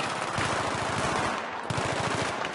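Rapid automatic gunfire from the video game Battlefield 3 rattles in fast bursts, with a short pause midway before the shooting resumes, loud and close.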